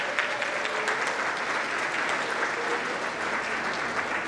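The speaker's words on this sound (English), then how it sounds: "let's give them another big round of applause" A large audience at a community college awards ceremony gives sustained, even applause, a thick continuous roar of clapping from a big hall with faint murmuring underneath.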